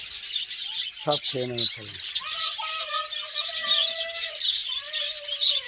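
A colony of budgerigars in a breeding aviary chirping continuously, a dense high chatter of bright tweets close by, with someone speaking briefly over the birds early on.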